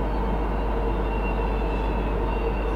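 A Norfolk Southern freight train passes a railroad crossing in the snow, heard as a steady, loud, low rumble of rolling cars with no horn or voices.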